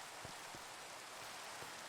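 Steady light rain in the video game Minecraft, a soft even hiss with a few faint thumps, quiet and continuous throughout.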